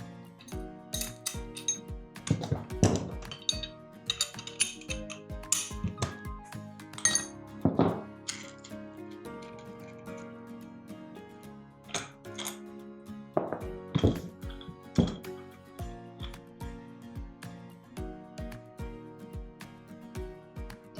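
Nuts and bolts on a gearbox handle undone with a 14mm spanner, giving scattered sharp metallic clinks and ratcheting clatters at close range, in irregular bursts with quieter gaps between.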